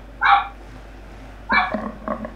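A dog barks twice at close range, a short sharp yap followed after a pause by a second bark that trails into smaller whimpering yips, in an otherwise quiet room.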